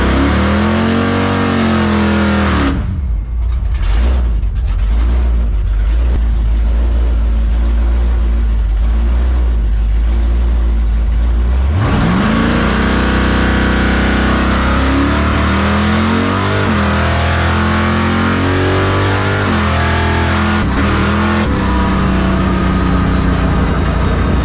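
Drag race cars, including a dragster, launch and run a Super Pro bracket race at Firebird Raceway's Halloween Classic, with loud sustained engine roar, a brief drop, then a second hard pass of revving and shifting close by.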